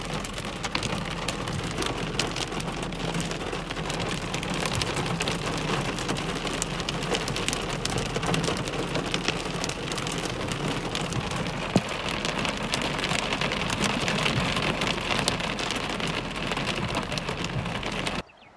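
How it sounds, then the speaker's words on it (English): A heavy downpour mixed with hail larger than pea size pelts a surface in a steady, dense roar of close impacts that holds throughout and stops abruptly at the end. "Holy crap, we got some good sized hail going on right now."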